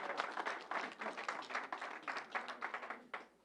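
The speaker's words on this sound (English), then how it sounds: "Can we give them a round of applause?" A small crowd claps together at a vaccination event in a Baptist church in New York, a brisk patter of many hands that holds steady for a few seconds, then thins out and fades.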